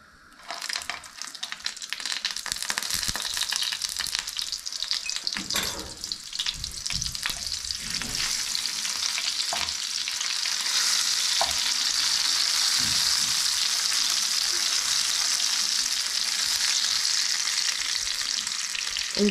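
Butter hitting a hot frying pan of pork chops, a loud, dense, crackling sizzle that swells within the first seconds and holds steady throughout, with a few stirring clinks, close up.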